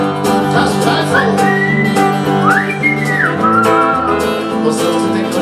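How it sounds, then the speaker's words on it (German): Melodic whistling carries a tune over steady band accompaniment in an Austrian pop-rock song, with a rising, sustained whistled phrase in the middle and no talking. "Das Pfeifen."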